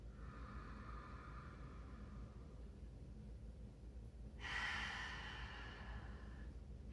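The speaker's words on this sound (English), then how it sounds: "2 more, deep breath in, and exhale." During a yoga session, a slow breath comes in faintly, then a soft, airy exhale through the mouth follows, quiet and close against low room hum.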